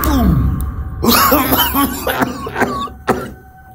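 Someone close by coughs up blood several times in harsh, rough bursts, the fits coming in an uneven series.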